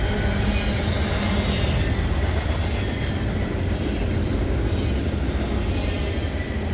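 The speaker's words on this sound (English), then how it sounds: "Just like our last intermodal train, this one is a mix of 53 footers, 40 footers, and 20 footers." A CSX intermodal freight train on the New York Central line in New York State passes close by, carrying mixed 53-, 40- and 20-foot containers. Its loud continuous rumble of rolling wheels carries faint squeals and clickety-clack, with no voices.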